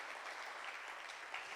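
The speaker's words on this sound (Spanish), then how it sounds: "Si va a aplaudirle, hágalo bien" Church congregation applauding during a sermon, a steady dense wash of clapping throughout the short stretch with no talk over it.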